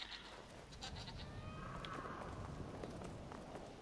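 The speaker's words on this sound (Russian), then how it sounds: "Горные козлы поскакали." Mountain goats in Brothers: A Tale of Two Sons galloping with soft, muffled hoofbeats under a steady wash of ambient noise, fairly faint and continuous.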